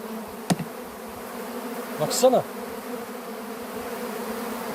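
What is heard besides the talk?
bees buzzing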